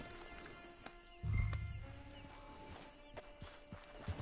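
Horse hooves clip-clopping in Red Dead Redemption 2, a few soft, scattered steps under a low game ambience with a brief rumble.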